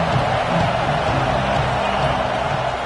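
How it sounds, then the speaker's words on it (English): Crowd at a Wisconsin versus Clemson college football game, a dense, continuous wash of roaring noise from a packed stadium, steady and loud throughout with no distinct individual voices. "This crowd ready to make its presence known."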